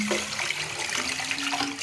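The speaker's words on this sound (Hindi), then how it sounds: "पानी और भी ऐड कर रहे हैं इसमें" Water pours steadily into a pot of kadhi with pakoras, a continuous splashing hiss heard up close.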